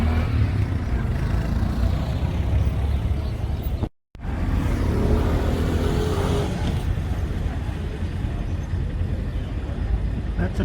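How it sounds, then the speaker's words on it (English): A tuk-tuk taxi rattles along a cobblestone street in Antigua, its small engine droning with a continuous rough, clattering rumble that briefly drops out before resuming at a steady loud level. "tuk-tuk, local taxis. No reverse suspension on a cobblestone road. It'll rattle you to death."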